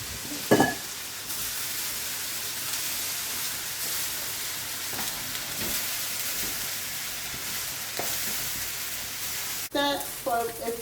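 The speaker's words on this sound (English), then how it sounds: "You can hear it sizzling." Steady sizzling of rice frying in a hot pot for Nigerian jollof rice, with occasional scraping knocks from stirring and a brief clatter near the end.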